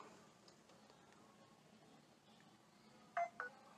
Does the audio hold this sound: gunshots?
no